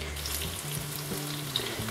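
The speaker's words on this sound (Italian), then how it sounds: "adesso dobbiamo andare a friggere, per l'altra ricetta dobbiamo andare a friggere il pesce" Sardines fry in hot oil with a soft, continuous sizzle, fairly quiet and steady with small crackles and faint kitchen hum beneath.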